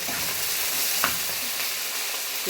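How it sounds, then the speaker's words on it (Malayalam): Okra sautéing in hot oil for a Kerala-style theeyal, a steady close sizzle and crackle with occasional stirring scrapes throughout. "വെണ്ടയ്ക്ക് ഒന്ന് വഴറ്റിയെടുക്കാം ഇത് ഞാനിവിടെ എണ്ണയൊക്കെ ചൂടായിട്ടുണ്ട്"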